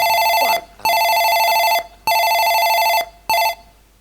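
A telephone bell rings loud and close in three repeated long electronic trills separated by short silences, with no talk.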